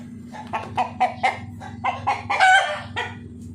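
A big heavy Rhode Island Red heritage rooster, the alpha of the flock, crows loudly and close by in a run of clucking calls that builds to a full crow, no talk over it.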